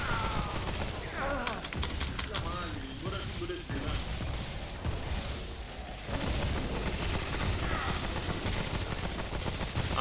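Gunfire in the multiplayer shooter Remnant, a dense stream of rapid shots and bursts running under continuous excited talk throughout.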